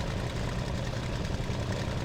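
Aircraft engine idling in the IL-2 Sturmovik flight game, a steady, dense low rumble that holds evenly and continuously throughout without any change in pitch or level.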